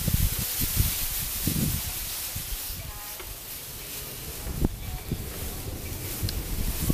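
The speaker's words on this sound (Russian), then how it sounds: "Сегодня ветер какой-то неимоверный, честно говоря." Strong wind blows outdoors on a hot day while sunbathing, a continuous loud rushing and buffeting across the microphone with occasional gust peaks.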